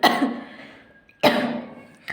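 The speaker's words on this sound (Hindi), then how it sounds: "वेदर की वजह से थोड़ी खांसी हो चुकी है मुझे।" Two sharp, close coughs about a second apart, with the start of a third at the very end.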